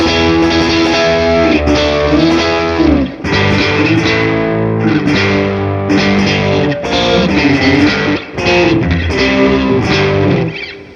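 Electric guitar run through a Chase Bliss Brothers AM pedal with gain maxed for high-gain distortion, playing a dense, sustained riff with brief dips between phrases, loud and close with no talking.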